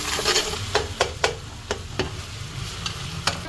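Chopped tomatoes and green chillies are stirred into frying onions for haleem, with a steady sizzle close by. A spoon scrapes the pan in a run of sharp, regular clicks, and no one speaks.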